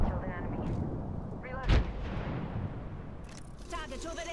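Several squads fight in an Apex Legends match, with booming gunshots, including one loud nearby blast, cracking over rapid talk between players.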